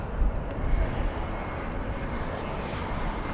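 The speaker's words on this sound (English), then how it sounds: "And we have an arrival. Flight American Airlines flight 1832 coming in from Denver, Colorado." American Airlines Airbus A321 arriving at Dallas/Fort Worth airport at night, a steady low jet engine roar, fairly close and loud, with no talk over it.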